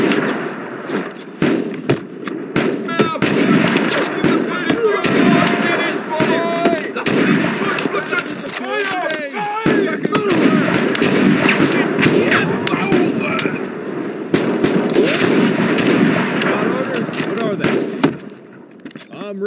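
Heavy gunfire in the Mud and Blood house-defense video game, dense rapid shots and booms running almost continuously and loud, with shouted voices mixed in.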